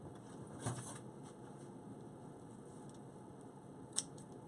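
Scissors cutting deco mesh give two brief, faint snips, one early and one near the end, separated by quiet room hiss.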